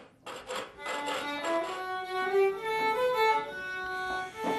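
Rhythmic rasping strokes of a file against a hard material in an instrument-making workshop where tin fiddles are made, close and fairly quiet, repeating steadily with no voices.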